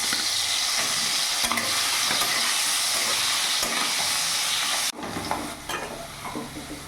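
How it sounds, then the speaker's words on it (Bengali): Cut potatoes fry in hot oil seasoned with salt and turmeric, a loud, dense sizzle with stirring that drops abruptly near the end to a quieter, crackling fry. "এরই মধ্যে কেটে রাখা আলুগুলো আমি ভেজে নেব।"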